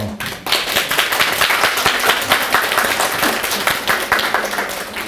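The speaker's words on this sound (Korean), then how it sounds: "박수 치면 건강해진다는 말이 있더라고요" Attendees at a Korean regional jobs conference break into hand clapping, a dense, lively patter of many hands that starts abruptly and carries on evenly for about five seconds.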